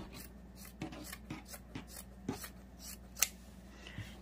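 Scissors snipping through a thrift-store sweater while making a no-sew Christmas gnome, heard as faint, close, irregular cuts and rasping fabric with no voices.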